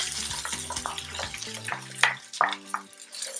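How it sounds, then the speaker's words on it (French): Onion frying in hot oil for jollof rice gives a close, steady crackling sizzle, with a few sharper scrapes and stirs and no talking. "I have put oil. I will put onion."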